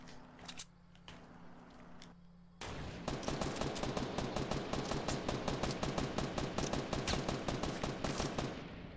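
A grenade launcher fires in Fortnite: after a quieter stretch, a rapid, evenly spaced string of sharp shots goes off, loud and continuous, with no talking.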